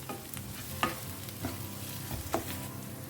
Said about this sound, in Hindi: अब इसे ना 1 मिनट के लिए अच्छे से भून लेते हैं।